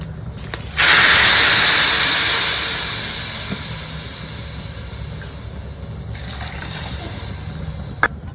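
Hot water is poured into four bowls of rice for basanti pulao, giving a loud, steady rushing gush that begins abruptly and slowly tapers off over several seconds, with no talking.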